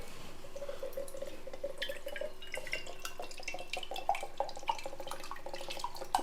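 Coconut water from two tender coconuts drips and trickles steadily into a glass at close range, with small bright splashes and no voices.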